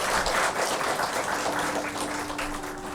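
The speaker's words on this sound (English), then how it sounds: "A big round of applause again." An audience at a Sunday evening spiritual talk applauding, a steady wash of many hands clapping at moderate volume, fading slightly toward the end.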